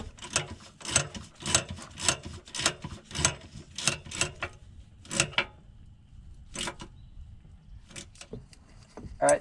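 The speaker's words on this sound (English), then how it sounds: "I'm gonna go ahead and tighten these up. Not real tight, just snug. I'm using a nylon lock nut." Nylon lock nuts being snugged on the dump bed of a Honda Pioneer 700 with a hand ratchet, in bursts of close, sharp clicking separated by brief pauses.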